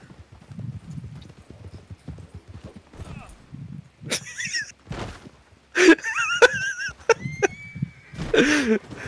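Horse in the Red Dead Online video game whinnying and clopping its hooves, with shrill high neighs coming in bursts over steady hoofbeats, mixed with game ambience and voices.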